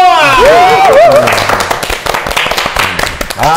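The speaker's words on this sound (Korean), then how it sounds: "박수!" Clapping from a small studio group on a talk broadcast follows cheerful shouting and a sung or whooping voice, the claps sounding as brief, scattered hits for a couple of seconds before talk resumes.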